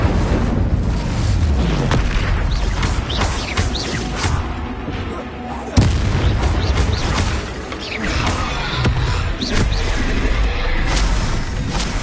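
Fire-spell explosions in a video game, a series of heavy booms and crackling blasts landing at irregular intervals over a low rumbling bed, loud and close, with one especially sharp hit midway.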